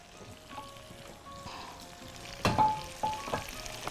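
Onions seasoned with salt and pepper sizzle softly in a pan while a spoon stirs them, with a few sharper scraping clatters toward the end.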